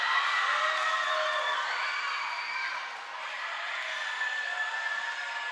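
Norwood JV student section cheering loudly from the top corner of the stands at a school volleyball game, a sustained roar of shouting and whooping voices that swells and dips slightly.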